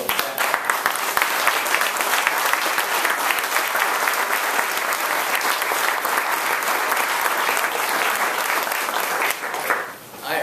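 Audience at a Delaware Nonprofit Day event rising to applaud and welcome the governor, a loud, sustained burst of clapping that fades briefly near the end.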